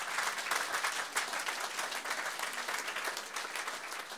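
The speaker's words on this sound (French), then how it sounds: "Acclamons très fort le Seigneur Jésus" A church congregation applauds during a French-language online worship service, a dense, steady wash of many hands clapping throughout, loud and close with no pause.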